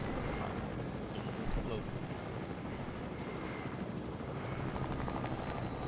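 A helicopter flies in Fortnite, a continuous throbbing rotor drone held steady at moderate loudness the whole time, with people talking over it.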